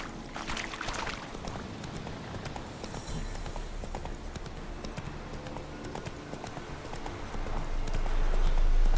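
Hooves of the horse Roach in The Witcher 3 beat out a steady, quick galloping clip-clop, loud and close, with only a little speech around it.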